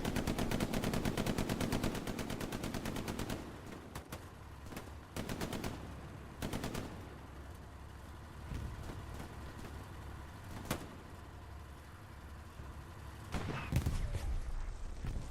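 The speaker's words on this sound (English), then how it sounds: "Shots coming out in the distance." Distant gunfire in the World War II shooter Hell Let Loose, with rapid machine-gun bursts early on, then scattered single shots and short volleys echoing across the battlefield at varying distances.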